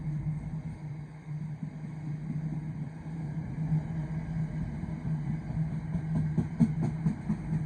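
A freight train rolls through Nuneaton station on the West Coast Main Line, a steady low rumble and drone with rhythmic wheel clatter building toward the end, fairly close and continuous.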